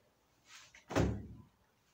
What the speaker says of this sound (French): Les portes sont coulissantes.